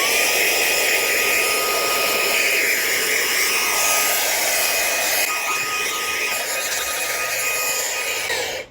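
A Fanttik B8 ACE brushless mini blower runs with a loud, continuous high-pitched whine and rushing air, held steady while dusting a sound bar and cutting off abruptly at the end.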